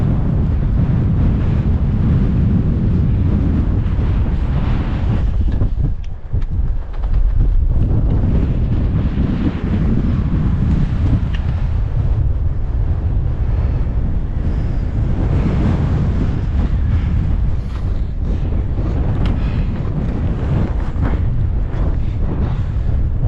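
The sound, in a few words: strong wind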